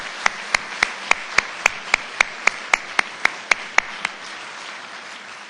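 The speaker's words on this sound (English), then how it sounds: "big round of applause." Clapping at an awards luncheon for youth employment programs, heard as about fourteen crisp, evenly spaced claps in a steady rhythm, close and distinct rather than a massed crowd, then stopping.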